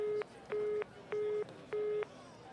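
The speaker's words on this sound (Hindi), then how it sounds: "सुहानी ने जवाब देने की बजाय फोन काट दिया।" Busy tone after a phone call is cut off: four evenly spaced beeps, each about a quarter second long with equal gaps between them, steady and moderately quiet, with no voices.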